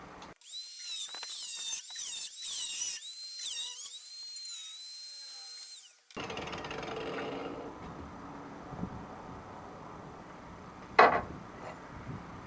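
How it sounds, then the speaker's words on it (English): A power tool cuts through sheet metal in a workshop, a loud high-pitched whine wavering for several seconds before stopping abruptly, followed by quieter shop clatter and a sharp metallic clank near the end. "So I'm going to cut this side off to there."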